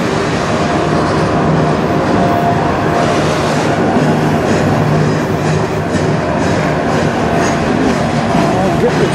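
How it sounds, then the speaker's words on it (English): A Via Rail passenger train pulling up on the CN Strathroy Subdivision near Sarnia, Ontario, with a steady loud rumble and rolling wheel noise close by throughout. "I'll get the train as it pulls up right beside"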